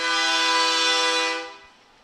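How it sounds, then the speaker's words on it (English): A truck horn blasts once at a street parade during the Glennville Sweet Onion Festival, one loud, steady, close tone held for over a second before cutting off. "asking for them to honk the horn?"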